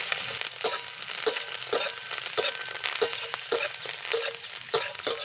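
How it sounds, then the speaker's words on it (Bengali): Onions and chopped coriander leaves fry in a pan, a steady sizzle broken by regular scraping stir strokes from a spoon, close and moderately loud with no voices. "ধনে পাতাকে কিন্তু আমি তিরিশ সেকেন্ড মতন ভেজে নিয়েছি"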